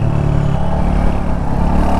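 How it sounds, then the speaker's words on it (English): A 2022 Royal Enfield Hunter 350 motorcycle rumbles with a deep, bassy exhaust note, close and steady with a slight pulsing throb over two seconds of riding. "I hope that you guys can hear the exhaust note."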